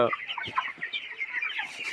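Many broiler chickens cluck and chatter together close by, a busy, continuous flock noise with overlapping calls.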